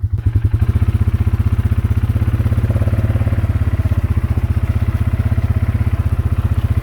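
A 2022 Polaris 570 Trail snowmobile engine runs close by on a winter outing, a steady, loud, throbbing rhythmic pulse at an even idle-like pace throughout, with no talk.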